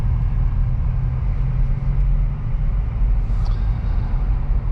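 A 2023 Acura Integra drives on a road, a steady low engine and road rumble heard from inside the car, with a short higher whine near the end as it downshifts.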